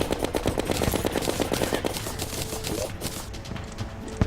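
Rapid gunfire with piercing bullets in Terraria's Calamity mod on Revengeance/Death mode: loud, fast repeating shots in a steady machine-gun rhythm, easing slightly toward the end, with no voice.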